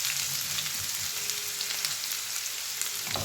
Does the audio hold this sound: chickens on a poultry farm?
no